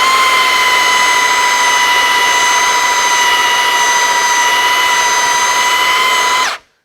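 A Milwaukee 2832-20 M18 FUEL 3 x 18 inch cordless belt sander runs at full speed with a steady, loud high-pitched whine and strong tonal harmonics, then cuts off abruptly near the end.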